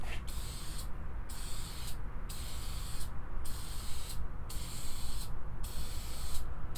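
Clear coat sprays in light back-and-forth passes onto a cymbal, a steady close hiss broken by six short, regular pauses in the bright spray noise, with no talking.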